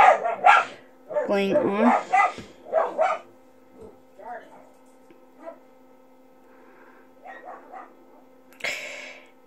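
A small dog barks in sharp bursts, a few loud yips early and then fainter scattered barks, mixed with a person talking nearby over a low mains hum.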